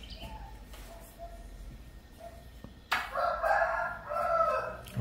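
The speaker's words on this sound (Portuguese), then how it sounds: "Olha o galo cantando." A rooster crows loudly partway through, early in the morning, a long rising-and-falling call over a quiet, noisy background with faint earlier bird sounds.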